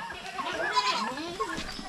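Goats on a farm bleat close by in wavering, nasal calls, several overlapping cries across a short stretch with faint background noise.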